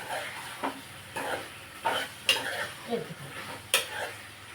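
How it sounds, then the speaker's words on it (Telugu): Pieces of elephant foot yam stirred in a metal cooking pot, with several uneven scraping knocks and clinks of a spoon against the pot over a faint sizzle, close up, with no talk. "పెండల దుంపలు కూడా మనం ఇలా వేసేసుకుంటే ఒకసారి కలిపేసి మూత పెట్టుకుంటే దుంప ఉడుతుంది"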